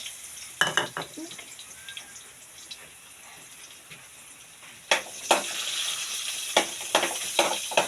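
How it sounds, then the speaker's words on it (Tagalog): Garlic and onion sizzle steadily in a pan, with a spatula scraping and clacking against it in irregular strokes, the frying growing louder and denser partway through. "hinahalo na po niya yung bawang sibuyas"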